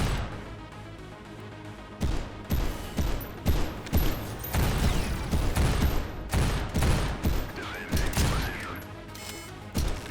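Gunfire in the video game Synthetik 2: dense, continuous bursts of rapid shots and impacts over a constant loud backdrop of game effects, with no pauses.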